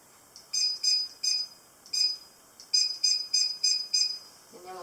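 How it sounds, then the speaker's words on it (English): A kitchen timer beeping while bread dough is set aside to rise in a baking class, with short high electronic beeps in irregular clusters, fairly loud and close. "Cover it with a towel and set the timer for 45 minutes."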